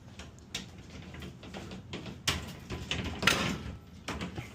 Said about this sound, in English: Slide in, it's on the track, and now you have both doors on there.